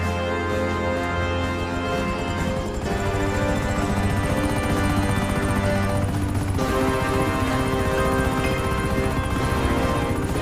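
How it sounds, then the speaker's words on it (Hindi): A helicopter in an animated cartoon flies over the sea toward an island, its steady loud rotor thrum and engine drone continuous and close, with shifting tones and no speech. "सारे लोग हेलीकॉप्टर पर बैठकर डग्गन आइलैंड की तरफ निकल जाते हैं"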